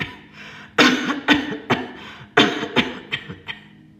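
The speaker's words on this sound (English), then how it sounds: "You want to cough." Forced coughs during a deep-breathing exercise: several sharp bursts in two clusters, each group a strong cough followed by two or three smaller ones, close and fairly loud with no talking.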